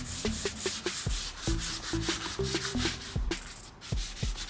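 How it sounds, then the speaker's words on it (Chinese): A power sander works over a painted wood garage door, rubbing and scraping in quick repeated strokes with knocks as the pad moves and lifts, close and fairly loud with no talking. "我用这种打磨机继续的打磨。"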